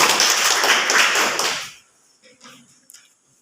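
Children in a classroom clap their hands together in a dense burst of applause that fades out after a couple of seconds, leaving faint scattered taps and rustles.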